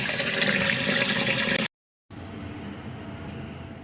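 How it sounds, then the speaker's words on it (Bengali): Running water rushes steadily as chana dal and rice are washed, a loud continuous splash that cuts out briefly before returning a little softer, close by with no talking. "দুবার তিনবার করে জল দিয়ে ধুয়ে নেব আর বাড়ির চাল তো একটু পোকাও হয়ে গেছে এই জন্য একটু বেশি ভালো করে ধুয়ে নিতে হবে"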